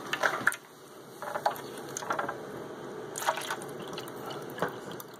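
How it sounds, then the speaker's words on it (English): Water poured from a container into the reservoir of a 3-pod AeroGarden, heard as a few short splashy bursts of pouring and trickling with close handling sounds in between. "we're just going to dump our water"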